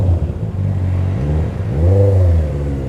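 Honda CB650R motorcycle engine idling, a steady low mechanical hum with slight pitch wobble and a brief swell near the middle, close and continuous with no talk.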